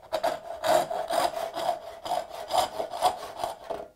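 Hand saw cutting wood by hand for a sunrise dovetail joint, with steady back-and-forth strokes of about two per second, close and clear with no talk.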